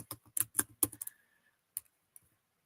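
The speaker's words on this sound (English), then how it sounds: "I just realized I am typing and you are looking at me typing" A quick burst of keystrokes rattles on a computer keyboard, close and crisp, followed by a pause and two isolated taps.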